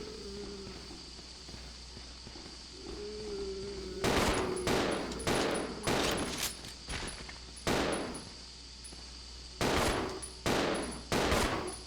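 Gunfire in Resident Evil Zero: a string of sharp, loud shots arriving in uneven bursts, some close together and others spaced apart, over a quiet low hum with no talk.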